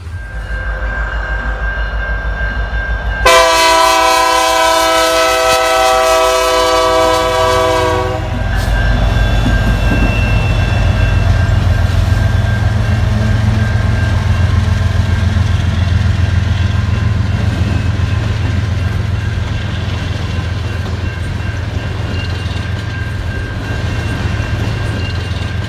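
An HO-scale model frac sand train descends a mountain slope on a layout, opening with a sustained multi-tone horn blast, then a continuous low engine rumble and rolling wheel noise that carries on steadily to the end.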